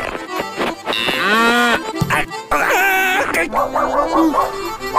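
A cartoon cow gives a long, drawn-out moo in a Kazakh animated film, with voices and other sound effects around the call.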